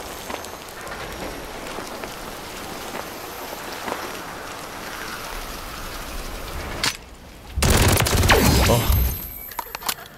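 A MAC-10 submachine gun fires in a video game, a dense crackling rattle of shots running steadily for several seconds, followed by a brief lull and then a louder, fuller burst near the end, with a single short exclamation.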